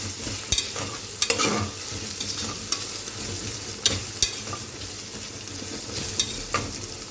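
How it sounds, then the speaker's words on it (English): Onions frying with ginger garlic paste in a pressure cooker for chicken biryani: a steady close sizzle broken by repeated sharp scrapes and knocks of a stirring spoon against the pan, no voices. "So this should be fried until the ginger garlic paste raw smell is gone."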